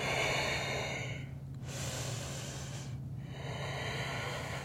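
Slow, audible breathing during a yoga practice held in downward facing dog: two long, airy breath cycles with a brief pause between them, close to the microphone over a steady low hum.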